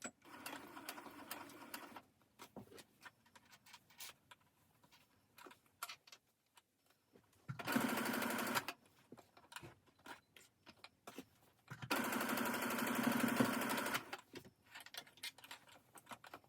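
A home sewing machine stitches a quarter-to-half-inch fabric seam for a mask and scrub cap, running in two loud, steady bursts of about two and four seconds, with quieter handling of the fabric between them.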